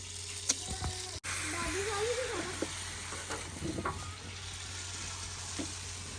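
Pude pancakes frying in oil, a steady close sizzle with faint stirring and clatter and a sharp knock partway through.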